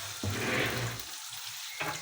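Eggs and vegetables fry in hot oil in a home kitchen, a steady crackling sizzle that eases off midway, then returns with a brief stir or clatter, close and alone.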